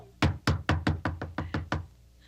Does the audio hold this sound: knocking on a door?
yes